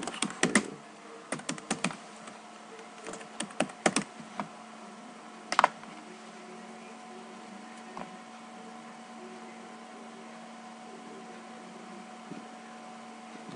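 Keystrokes on a computer keyboard at a Windows PC, a burst of quick irregular taps over the first few seconds and another isolated click near the middle, then a steady faint room hum with occasional light clicks.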